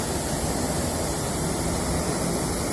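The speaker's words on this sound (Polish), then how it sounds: "Nie przepławka, a wodospad, próg wodny." Water pours over a concrete weir about three metres high on the Rakówka river, a steady, dense rushing roar that fills the whole moment without pause.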